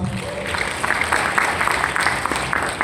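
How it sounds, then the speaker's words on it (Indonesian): An audience applauds at a CIMB Wealth XPO investment talk, a fairly loud and even burst of crowd clapping lasting the whole moment, with some voices mixed in. "Bro Bagas, boleh kasih tepuk tangan teman-teman?"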